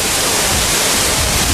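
Riachão waterfall roars as a loud, dense, unbroken rush of falling water filling the whole scene.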